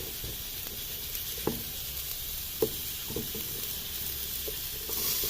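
Onion and garlic fry in a pan with a steady, soft sizzle throughout, broken by a few quiet knocks of a stirring utensil against the pan.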